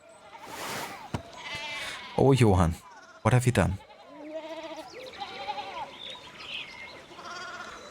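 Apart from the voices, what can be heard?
sheep bleating in video game Pentiment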